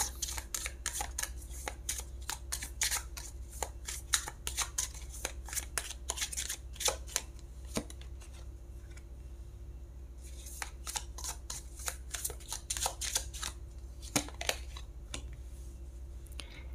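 Tarot cards are shuffled and handled up close: quick riffles, crisp flicks and soft taps come in irregular clusters, with quieter stretches between them over a low steady background hum.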